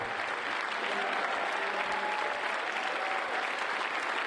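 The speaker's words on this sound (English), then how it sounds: "You're going to be clapping a lot" An audience claps continuously at a hacking conference's closing ceremony, a dense, even wash of many hands that is loud and sustained throughout, with faint voices underneath.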